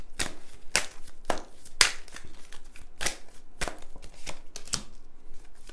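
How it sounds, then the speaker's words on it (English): Tarot cards shuffled by hand at close range, a series of quick, crisp riffling snaps at irregular intervals, fairly quiet with no talk over them. "I'm going to shuffle these cards."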